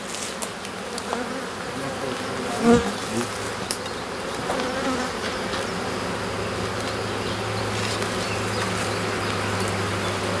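Steady dense buzzing of black honeybees around an open hive fills the whole stretch, close and continuous, with a brief louder bump early on and no talk.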